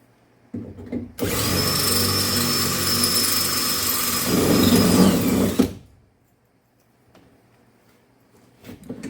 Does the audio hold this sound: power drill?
yes